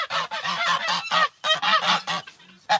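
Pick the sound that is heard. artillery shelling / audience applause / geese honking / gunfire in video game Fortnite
geese honking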